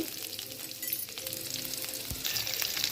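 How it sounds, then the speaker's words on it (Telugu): Chopped onion pieces fry in a pan for a golden colour while cooking a chukka leaf chutney, a steady close sizzle with a few soft stirring clinks, no talking. "వీటన్నిటిని కొంచెం గోల్డ్ కలర్ వచ్చేంత వరకు మనం వేయించుకోవాలి"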